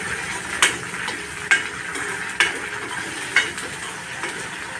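Ginger-garlic paste being sautéed with softened tomatoes in a pan, a low steady sizzle punctuated by four sharp utensil taps against the pan at roughly regular intervals, close up with no speech.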